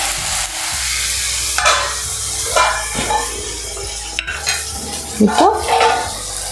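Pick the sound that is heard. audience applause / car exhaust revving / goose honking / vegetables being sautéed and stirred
vegetables being sautéed and stirred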